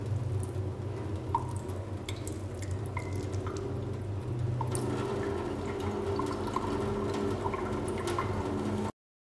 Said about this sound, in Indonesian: Setelah 5 menit kita cuci di bawah air mengalir